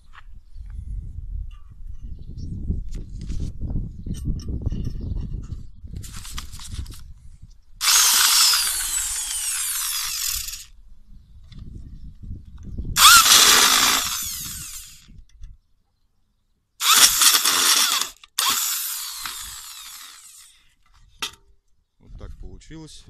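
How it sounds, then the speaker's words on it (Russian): Power screwdriver driving self-tapping screws into plates on a homemade plane, with several loud high-pitched whirring bursts of a few seconds each between stretches of someone talking and handling sounds. "И на 2 самореза прикручиваем"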